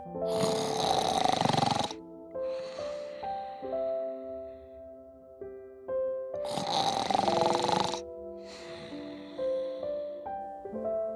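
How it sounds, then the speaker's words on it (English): Two loud, rasping snores about six seconds apart, each followed by a softer wheezy, whistling exhale with a tonal quality, like a cartoonish sleeper. "he fell fast asleep on the floor, snoring like a little engine"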